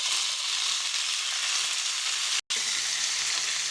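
Onion and curry leaves fry in hot oil for tomato chutney, giving a steady, close, even sizzle with a brief dropout partway through and no voices.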